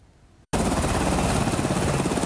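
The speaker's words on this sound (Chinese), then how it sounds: "三人的遗体也由空勤总队直升机吊挂下山" A rescue service helicopter used to lift bodies down from a mountain after a typhoon gives a loud, continuous, close rotor roar that starts abruptly after a short quiet moment.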